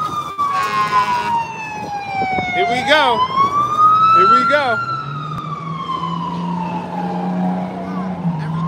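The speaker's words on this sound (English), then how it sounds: "That was the fire engines, y'all." Wailing fire engine sirens sweep up and down on a Newark, New Jersey street, with a horn-like yelp, loud and passing nearby while a voice speaks briefly.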